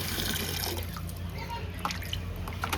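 Water splashes and trickles as buckets are emptied into a small pool, with brief drips and sloshes close by under background noise.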